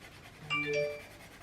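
A phone notification chime sounds once, a short bright ding ringing out briefly against a quiet room, with no one talking.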